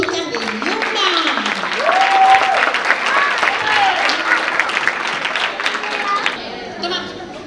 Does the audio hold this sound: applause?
yes